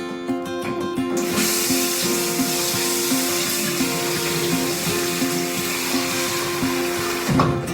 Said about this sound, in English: I'm going to fill this bowl up with some steaming water.